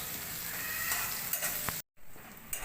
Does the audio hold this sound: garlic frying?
yes